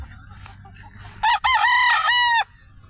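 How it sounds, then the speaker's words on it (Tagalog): A backyard rooster gives one loud, close crow in two bursts, with soft hen clucking and faint background noise around it. "Tanawan nyo ang amon mga manok."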